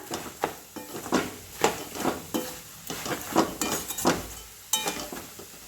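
Ground coriander, cumin and turmeric are stirred in a pan for chivda, with a spoon scraping and tapping the metal in a brisk, uneven rhythm of about a dozen strokes, close up and without talk.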